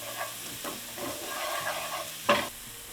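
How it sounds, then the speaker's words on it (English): Mushrooms seasoned with pepper saute in a pan for a garlic, onion and cheese appetizer, giving a soft, steady sizzle with quiet stirring scrapes and one sharper utensil clatter near the end. "we're going to saute for a few minutes"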